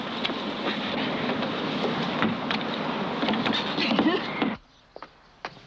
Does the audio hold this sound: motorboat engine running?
yes